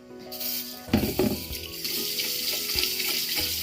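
Ingredients are rinsed in a bowl of water for savoury pea flower angku, with a steady splashing, sloshing wash close by. Water noise continues throughout and there is no talking.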